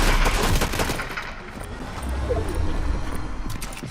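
Gunfire in the Fortnite video game, a dense rattling fusillade of shots over a rumbling game background, loud and continuous for a few seconds.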